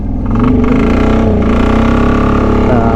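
A 1999 Polaris diesel 455 utility vehicle drives along with a loud, steady engine drone close to the listener, the pitch holding fairly even with slight surges, and a voice speaks briefly over it.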